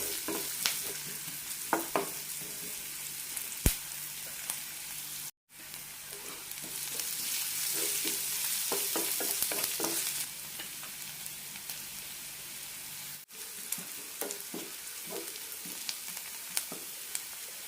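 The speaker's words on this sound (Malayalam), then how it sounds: "ഇതിലേക്ക് സവാള ഇടാം. സവാള ലൈറ്റായിട്ടൊന്ന് ഗോൾഡൻ ആകണം." Sliced onions frying in a pan for a roasted-coconut potato curry, a continuous close sizzle punctuated by clattering stirs and spatula scrapes, with brief breaks in the sound.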